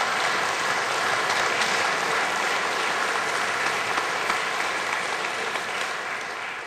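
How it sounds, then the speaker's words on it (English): A crowd applauds at a national landmark designation ceremony for the B Reactor, with broad, even clapping that holds steady and tapers slightly toward the end. "So let's give a round of applause."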